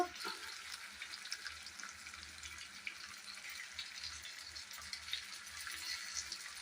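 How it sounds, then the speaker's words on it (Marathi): Eggplant masala sizzles in a pan as a little water goes in, producing a soft, continuous crackling hiss with faint stirring scrapes, fairly quiet and without speech. "आता मी याच्यामध्ये पाणी ओतणार आहे थोडस"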